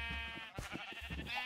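Minecraft sheep bleating in the game, a nasal wavering bleat with a short break partway through, fairly close and clear over a faint background of game sound.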